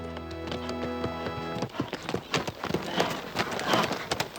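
Horses carry a rancher and his herdsmen at a trot across rolling cattle-ranch land. The hoofbeats come in a quick, uneven clatter that starts after a sustained musical tone fades.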